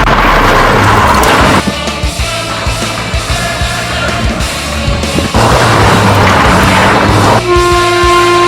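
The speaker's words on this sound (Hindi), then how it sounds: "अरे सामने देखो, अरे ट्रेन आ रही है।" A train approaches with a loud rumbling roar and rhythmic clatter of wheels on the rails, while its horn blares in long sustained blasts close by. No voices are heard.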